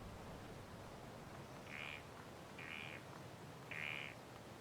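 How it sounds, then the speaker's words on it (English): Ambient frog croaks in the sci-fi video game Empyrion: three short, evenly spaced croaking calls over a steady low background hiss, faint, with no talking. "sounds like an ambient frog noise?"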